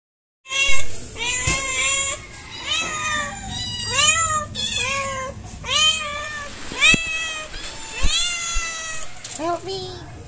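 A cat meows repeatedly while asking for food around a home, a rapid series of clear, close, rising and falling meows with brief gaps between calls and no talk over them.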